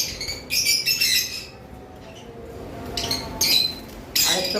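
Caged lovebirds let out shrill, close squawks in short clustered bursts, with quieter gaps of faint chatter between the outbursts.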